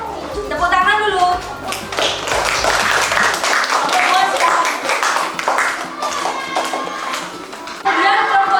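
A primary school classroom breaks into applause for a group that has just presented, a dense burst of clapping from many children lasting several seconds, with voices mixed in.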